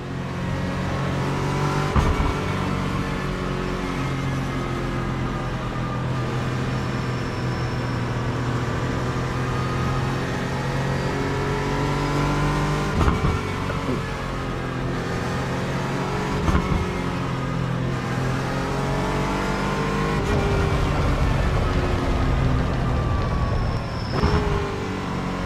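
GT4 race car engines in the iRacing sim, with BMW, Porsche and Mercedes cars, droning steadily and loudly as one engine climbs and drops through gear changes, with occasional sharp shift blips and other cars nearby.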